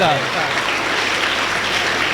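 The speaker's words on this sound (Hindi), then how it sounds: "तालियां बजाओ बेटी की" Loud, dense applause fills a school gathering at St. Anthony's Convent School in Palwal, steady and close throughout with a brief voice at the start.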